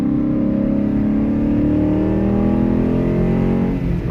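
A Dodge Challenger wide body Scat Pack V8 accelerating hard through the gears, a loud close-up engine roar with rising pitch as it winds out, heard inside the car without talk.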